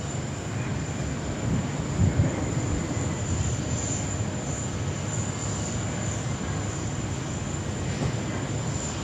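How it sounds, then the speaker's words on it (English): Cessna Citation jet aircraft at Sydney Airport, a steady engine roar with a high whining tone running throughout, moderately loud and continuous with no talk. "Smooth as you like there from the little Cessna."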